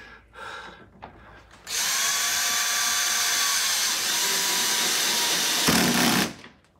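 A power drill drives screws into a plastic window frame, running in one loud continuous whine for about four seconds after a couple of brief quiet bursts, then cutting off.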